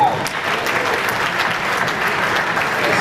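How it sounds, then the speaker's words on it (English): Audience applause at a cabaret show at the Thomson Sousse Palace in Tunisia, loud, dense clapping from a crowd that holds steady for several seconds, close and full. "Once again, a big round of applause."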